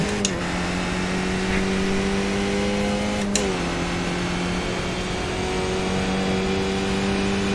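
Race car engine held in third gear through a long left-hand corner at Zandvoort in a racing video game, a loud steady drone that dips briefly in pitch midway and then settles again, with no voices.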